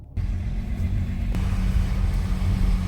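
An Audi A4 3.0 TDI Quattro on a test drive, its engine giving a steady low rumble from inside the cabin, alone and close.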